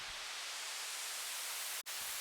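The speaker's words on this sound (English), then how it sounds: "It's just basic white noise, panned left and right, just to glue it a bit together." Plain white noise sits in a music track as a steady, even hiss panned left and right, holding constant except for one brief dropout near the end.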